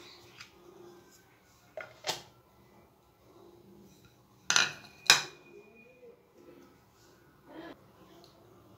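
Cut potato pieces land on a plate with several sharp clinks and clatters, scattered through an otherwise quiet kitchen, with faint talk in the background.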